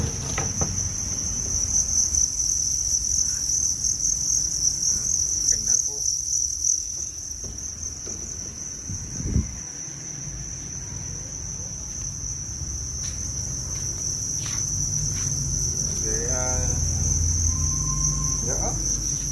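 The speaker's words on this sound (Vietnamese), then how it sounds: "Con dế mới nở con này. Đây là thùng dế nhỏ." Newly hatched crickets in a small cricket bin on a farm chirp in a steady, high, continuous trill throughout, with faint scattered rustles and a brief low thump partway through.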